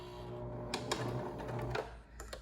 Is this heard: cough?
no